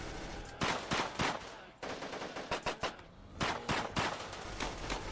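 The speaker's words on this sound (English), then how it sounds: "we need to be shooting at these two" Gunfire during a firefight in the colony-simulation game RimWorld, a rapid series of sharp shots and short bursts, fairly quiet overall with brief gaps between volleys.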